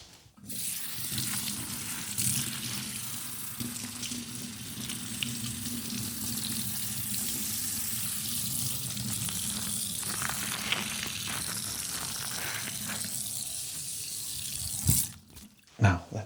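Running tap water pours steadily into a sink as salad greens are rinsed, a continuous close splashing hiss that stops abruptly near the end.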